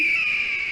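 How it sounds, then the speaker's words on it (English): An eagle gives a short, sustained, high-pitched screech, a single shrill cry heard alone. "Yes, an eagle."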